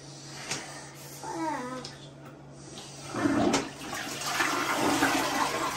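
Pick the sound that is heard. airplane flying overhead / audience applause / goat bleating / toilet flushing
toilet flushing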